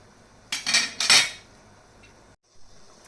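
A metal utensil scrapes and knocks against a frying pan while balushahi is flipped: two quick, bright scraping clatters close by, then a faint clink after a pause.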